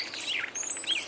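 Small garden birds chirp in a brief, quiet burst of high twittering calls, used as a sound effect in an audiobook.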